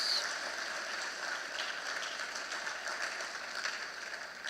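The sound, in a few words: audience applause for police officers at a service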